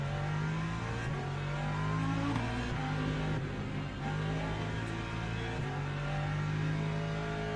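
Racing hypercar engine in Le Mans Ultimate, a loud, steady high-revving drone with gear changes shifting the pitch up and down throughout, close and continuous with no talk over it.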